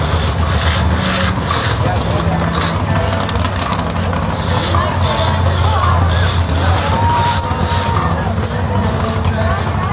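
At a country fair, two people work a crosscut saw through a log in a timed Jack and Jill contest, its rhythmic rasping strokes running under a cheering crowd and shouted talk.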